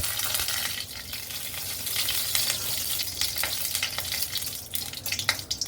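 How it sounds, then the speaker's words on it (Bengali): Mustard seeds and dried red chillies splutter in hot oil as a tempering for dal, a dense crackling sizzle with quick pops and occasional stirring clinks, close by and without speech. "কালো জিরে না শুকনো লঙ্কা ফোড়ন দিয়েছি আর সর্ষে ফোড়ন দিয়েছি"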